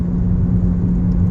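Steady low car engine rumble and road drone from inside a moving car, loud and continuous with a constant hum throughout, no talking.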